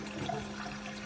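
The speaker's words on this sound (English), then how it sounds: "So here's the toilet flush." A toilet flush carries up through a sewer pipe as a short, steady rush of water with a constant low hum beneath it, and no voices.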